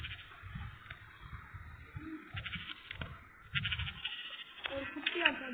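A young goat bleats in the World Craft game, short nasal cries repeating several times at close range, with someone talking over and between them.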